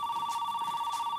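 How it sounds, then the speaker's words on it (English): A telephone rings with a steady electronic tone, moderately faint and continuous across the short moment, with no voices. "answer the phone!"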